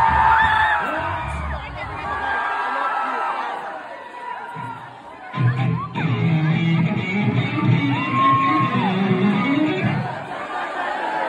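A concert crowd at a show at the Marquee Theater in Tempe, Arizona screams, whoops and cheers continuously at close range, with shouting voices mixed into the loud roar.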